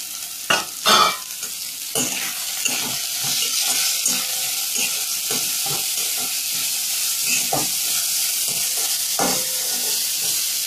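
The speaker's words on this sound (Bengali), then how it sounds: "গাজর খানিকটা ভাজা ভাজা হয়েছে, এবার আমি পেঁয়াজ কুচি দিচ্ছি।" Chopped onion and carrot frying in a pan for chicken momo filling, a loud continuous sizzle broken by repeated spatula stirs and scrapes, with no voices.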